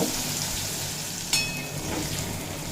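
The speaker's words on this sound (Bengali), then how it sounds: "পনির কিন্তু খুব বেশি ভাজবো না অল্প একটু ভেজেই" Paneer frying briefly in hot oil for a Durga Puja niramish khichuri, giving a steady close sizzle throughout with one sharp crackle partway, no talk.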